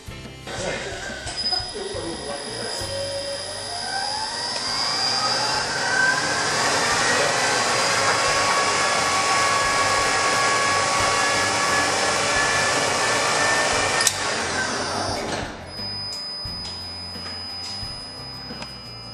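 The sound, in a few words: friction welding machine spinning a pin at 4000 RPM against metal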